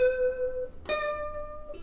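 A ukulele plays a short run with vibrato, giving a gentle wavering on each sustained note. A few plucked notes sound close and fairly soft, alone, over about two seconds.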